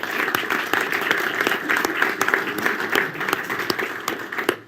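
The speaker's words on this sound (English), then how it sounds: "A round of applause for Manuel Feller" Studio audience applauding at an alpine ski race talk show in Sölden, Austria, with steady dense clapping throughout, near and moderately loud, with no talk over it.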